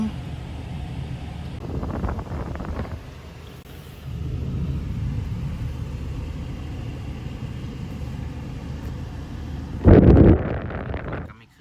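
A Mazda car on a test drive with its i-Eloop and i-Stop systems switched off, a steady low rumble of engine and road noise with wind buffeting and a brief louder burst near the end.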